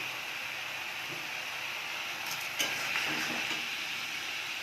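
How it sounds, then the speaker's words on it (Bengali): Tomatoes going into a pan of fried onion masala for an Indian curry, a faint, even sizzle of oil with a brief clatter and splash partway through as they land. "পেঁয়াজের মশলাটা ভাজা ভাজা হয়ে গেছে, এবার আমি টমেটো দিয়ে দিচ্ছি।"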